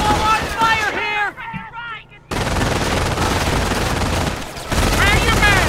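Gunfire in the World War II strategy game Company of Heroes, with bursts of shots rattling loud and close, overlaid by shouted voices and battle chatter, a brief quieter gap, then renewed dense firing.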